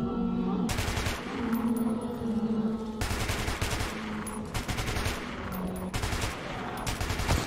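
Bursts of automatic gunfire in the video game Metro, rapid volleys in several separate runs with short pauses between them, loud and close over an eerie ambient background.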